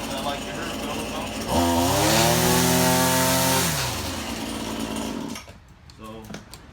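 RedMax string trimmer engine buzzes in a loud, high-pitched rev that climbs, holds for a couple of seconds and falls back to idle, heard up close outdoors.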